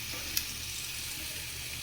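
Vegetables sautéing in a pan at home give off a soft, steady sizzle with a light clink of a utensil near the start, close by and quiet, with no talking.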